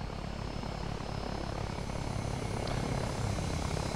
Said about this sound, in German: Ich weiß nicht, was da kommt für ein Hubschrauber.